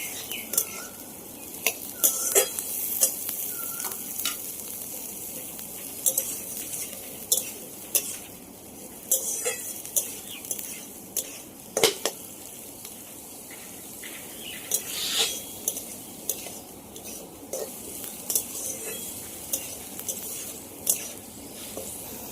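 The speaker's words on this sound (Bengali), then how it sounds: "সবজিটা একটু ভাজা ভাজা হয়ে গেছে, পেঁয়াজ কুচিটা দিয়ে দেবো।" Vegetables with chopped onion fry in a pan for chirar pulao, a flattened-rice pilaf, with a steady faint sizzle under repeated scrapes and clinks of a spoon stirring against the pan, with no talking.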